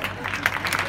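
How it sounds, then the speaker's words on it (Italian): Applause from a live theatre audience during a comedy robbery sketch, a steady broadband patter of many hands that stays fairly even and moderately loud through the short moment. "Dai, stanno applaudendo, lo vogliono fare questi porci."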